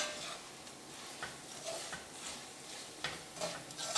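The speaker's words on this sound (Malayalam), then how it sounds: "പൊടികളെല്ലാം ഈ എണ്ണയിൽ കിടന്നിട്ട് നന്നായിട്ടൊന്ന് മിക്സ് ആവണം." Spice powders stirred in hot oil for Kerala beef pickle, soft scraping and light sizzling with irregular spoon strokes against the pan, fairly quiet and close.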